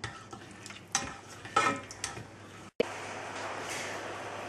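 White wine splashed into a hot pan for stuffed baby squid, followed by a few spoon clinks and stirring scrapes, then a steady close hiss as the liquid heats toward a boil.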